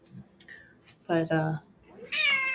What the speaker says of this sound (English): my cats are annoying me so much because they keep just like getting all up in whatever I'm doing